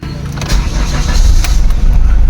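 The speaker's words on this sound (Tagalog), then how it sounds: "try nating engine start" A Chevrolet Captiva engine cranks and catches close by, rising quickly into a loud, steady rumble that keeps running, with no talk over it.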